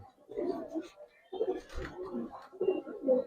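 Aluminium silver Giribaz pigeons coo in a loft, several soft, low, throaty bursts in short phrases separated by brief pauses, fairly close and clear, with no talk over them.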